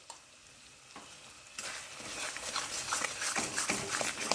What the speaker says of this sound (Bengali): সমস্ত কিছু ভালো করে কষিয়ে নিচ্ছি।